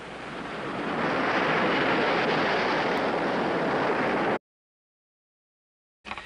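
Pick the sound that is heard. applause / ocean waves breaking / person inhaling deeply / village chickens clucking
ocean waves breaking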